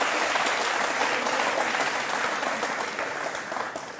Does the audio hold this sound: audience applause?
yes